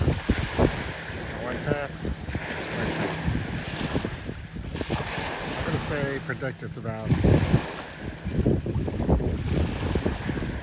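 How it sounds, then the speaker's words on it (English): Outdoor wind noise with irregular slapping of a sailboat halyard and fluttering of an American flag, under a man's speech near the microphone. "You hear the halyard slapping and the American flag."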